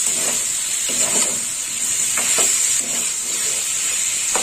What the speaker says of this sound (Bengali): এইভাবে সব লাউটা কষে নিতে হবে।